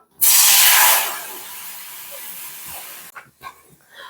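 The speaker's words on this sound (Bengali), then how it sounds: "কড়াই গরম হয়ে গেছে দিয়ে দিচ্ছি জল" Water poured into a hot wok for boiling drumstick stalks bursts into a loud, broad steaming hiss, then settles into a steady sizzle for a couple of seconds before fading into a few light clinks and small sounds.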